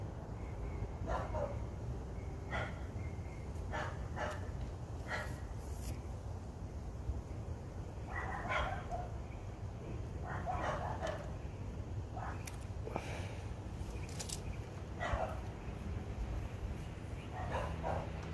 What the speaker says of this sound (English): The doggies.